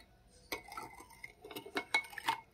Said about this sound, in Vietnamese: Mình quậy cho nó tan đường.